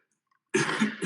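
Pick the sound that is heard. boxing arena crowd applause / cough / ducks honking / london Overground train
cough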